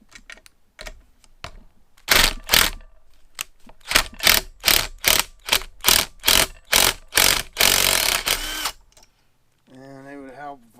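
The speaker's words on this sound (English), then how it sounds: "And then we're going to take off our 2 7/16 bolts are right here." A wrench or ratchet working the 7/16 bolts on a Mercury 85hp outboard, loud rapid ratcheting bursts repeated in a rhythmic series close up, followed by a short voice at the end.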